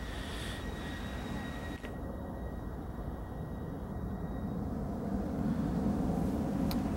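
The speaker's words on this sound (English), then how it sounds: "Oh, a plane." Distant airplane passing overhead near a railway line at Herne Hill, a broad steady rumble that swells gradually toward the end, with no talk over it.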